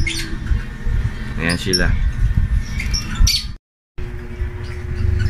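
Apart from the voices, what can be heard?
birds squawking in a flight cage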